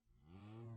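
A Minecraft cow in the FTB Infinity Evolved modpack gives one drawn-out moo that swells and holds steady, close and clear with nothing else heard.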